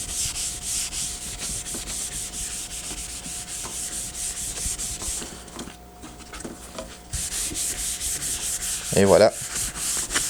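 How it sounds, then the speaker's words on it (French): A 3D printer's print bed is wiped clean, producing steady, rhythmic rubbing strokes across the surface with a brief pause. A short spoken phrase comes near the end. "Et puis, je nettoie ma surface d'impression."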